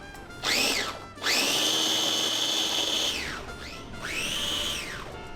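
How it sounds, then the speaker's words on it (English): Food processor chopping onion and green pepper in loud whirring pulses, a short burst, then a long spin, then another, each revving up and winding down, close. "We're gonna put the onion and the pepper in the food processor as well."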